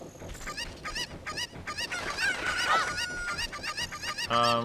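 Honking, squawking poultry calls from a chicken in the video game Ocarina of Time, a string of short repeated cries with a louder flurry near the end, heard alone without speech.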